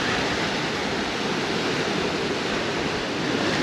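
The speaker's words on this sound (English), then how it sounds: "the waves are getting stronger, which means there's a storm a-brewing" Ocean surf and strong wind before a storm on a Penang Island shore roar in a dense, unbroken wash of noise, loud and close, with no talking.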